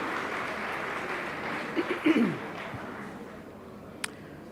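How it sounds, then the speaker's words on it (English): Audience applause for a panel on global economic recovery at a plenary session, moderate steady clapping in a hall, with a few louder claps and a brief voice partway through. "A round of applause, ladies and gentlemen, for our panel, Actions for Global Economic Recovery."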